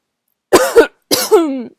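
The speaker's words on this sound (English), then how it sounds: "excuse me, I'm gonna cough again" Two short double coughs, close and fairly loud, separated by a brief pause with silence around them.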